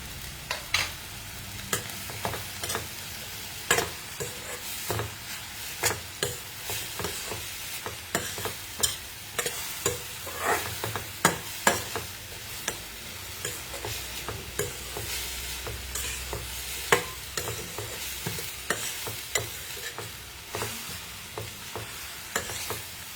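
Oregano and chili flakes fry in a pan while being stirred, a constant hiss of sizzling oil with regular sharp scraping taps of the utensil against the pan, close and fairly loud, with no speech.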